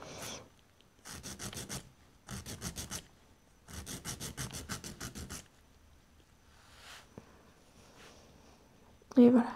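Nail file rasping across an acrylic resin fingernail in several rhythmic bursts of quick back-and-forth strokes, close and fairly loud, separated by short pauses, with softer handling sounds after.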